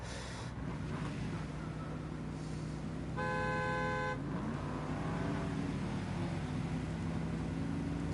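A car horn honks once in a video game, a steady multi-tone blast of about a second standing out over continuous engine drone and wind-like rumble, with no one talking.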